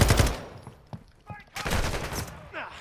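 Shotgun blasts ring out in Modern Warfare 2 DMZ on Ashika Island: a loud cluster of shots at the start, then another heavy burst midway, with a voice talking between the shots.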